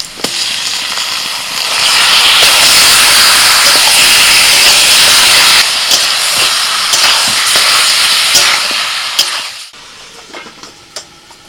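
Marinated chicken hits a pan of frying onions with a loud, steady sizzle that swells after a couple of seconds, holds with crackles and spits, then eases off near the end.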